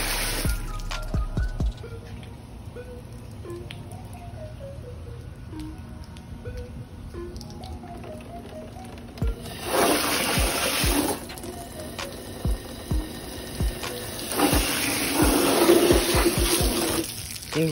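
Water runs through the drains of a Florida box turtle tank, heard as gurgling, gushing bursts that come and go in two louder surges among quieter trickles and knocks.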